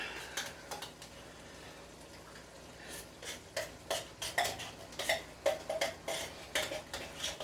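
Great Value mixed chili beans are scraped out of a can into a pot with a utensil, a series of sharp metallic scrapes and clinks in irregular bursts, close and moderately loud, with no talk.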